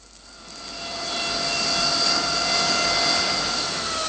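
A Bristol Britannia turboprop airliner touches down, its engine roar swelling within the first second into a loud, steady drone with high whining tones.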